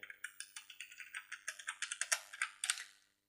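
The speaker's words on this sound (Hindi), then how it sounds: "तो चलिए यहाँ पर आधार नंबर फिल करके आगे प्रोसेस करते हैं" Typing an Aadhaar number on a laptop keyboard, a quick run of about twenty crisp, close key taps in an uneven rhythm, quiet and isolated before stopping.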